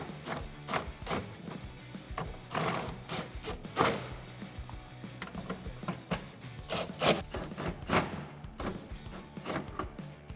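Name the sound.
tightening bed cover clamp bolts and nuts with 10mm socket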